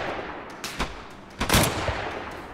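Modded gun sounds in Arma Reforger: a few sharp, punchy shots in quick irregular succession, the loudest crack near the middle, set against a steady background hiss.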